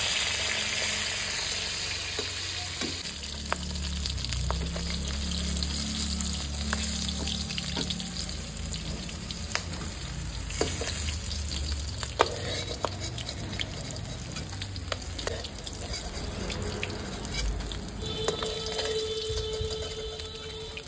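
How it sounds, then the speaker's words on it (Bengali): A continuous close sizzle of fish frying in oil on a clay stove, with scattered clinks and knocks of a utensil against the pan rising out of the bubbling hiss. "সুন্দরভাবে ভাজি হয়ে গেছে গা।"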